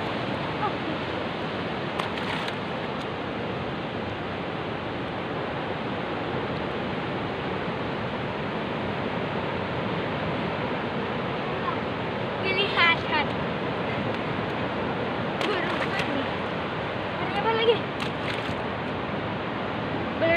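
Steady broadband surf of waves washing onto a shore, constant and fairly loud, with occasional faint higher-pitched sounds breaking through.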